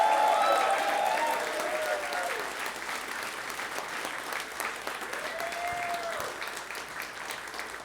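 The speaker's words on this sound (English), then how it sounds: "One more massive round of applause for our performers tonight." Sustained audience applause for musicians after a jazz concert, loud at first and easing slightly, with brief whistles or cheers rising over the clapping.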